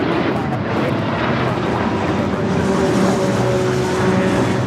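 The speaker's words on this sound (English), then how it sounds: "This is American Airlines 613 taking off to Chicago on the 737-800." An American Airlines Boeing 737-800 takes off at LAX, its engines giving a loud, steady roar that holds evenly throughout.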